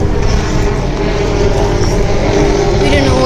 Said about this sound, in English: we're gonna go check out what is that helicopter doing up there